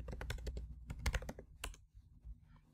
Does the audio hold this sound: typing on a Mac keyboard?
yes